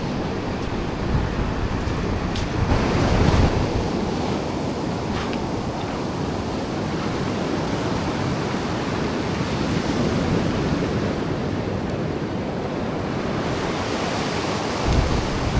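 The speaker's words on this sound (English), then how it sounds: "Nice and rough seas." Rough sea waves breaking on the shingle beach of the Yorkshire coast, a loud continuous roar of surf mixed with wind noise, with a few stronger surges.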